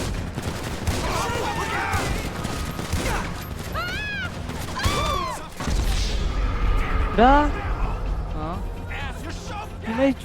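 Rapid bursts of gunfire in the game GTA V during a heist mission, crackling repeatedly over a busy mix of game sounds, with someone talking throughout.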